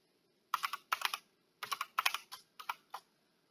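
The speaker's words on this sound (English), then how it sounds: "if I start typing" Bursts of typing on a computer keyboard while working in Excel, close and crisp, with quick clusters of keystrokes broken by short pauses.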